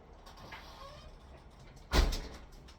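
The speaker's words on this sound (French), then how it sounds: "Voilà, j'ai fermé la porte parce que sinon le chien la voit tout le temps sur ton bras." An indoor house door is pushed shut, landing as one sudden thud near the end after a quiet, faintly noisy room.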